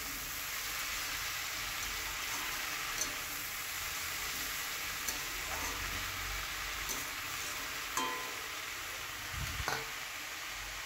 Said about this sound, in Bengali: শাকটাকে ভালো করে আমি মশলার সঙ্গে কষিয়ে নিচ্ছি